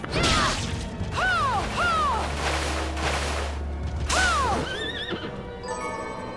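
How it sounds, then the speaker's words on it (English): Several loud horse whinnies ring out one after another over a low mechanical drone and game sound effects, with faint hoof clops and creaks, from the video game Bloodstained: Ritual of the Night. "Hell horse hoof."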